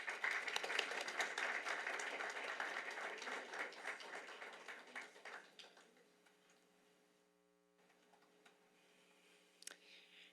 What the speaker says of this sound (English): So if we give a round of applause to Mr. Segala.